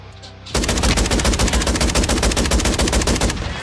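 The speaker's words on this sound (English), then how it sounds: "It's a shotgun. It's the KV Broadside, Nick." A KV Broadside shotgun, modified to fire like an assault rifle, unloads in a video game as a loud, unbroken stream of rapid automatic shots lasting about three seconds before cutting off.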